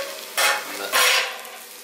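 Grated carrot cooking in a pan is stirred twice, each pass a loud scraping sizzle of about a third of a second, over a quieter continuous frying hiss, close up with no talking.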